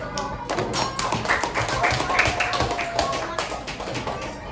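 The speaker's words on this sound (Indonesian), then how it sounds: "ayo kasih tepuk tangan dulu" Classroom of schoolchildren clapping together, a dense run of sharp hand claps at a steady level with a lively children's chatter underneath.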